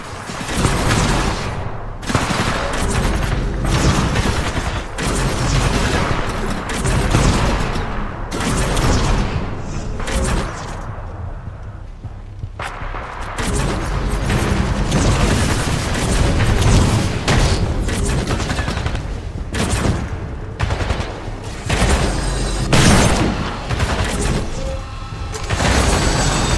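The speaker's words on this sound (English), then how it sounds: "The vortex shield catches incoming rounds and missiles." Vortex shield catching incoming rounds in Titanfall 2: continuous loud gunfire, heavy booms and mechanical impacts, with a brief lull midway before the barrage resumes.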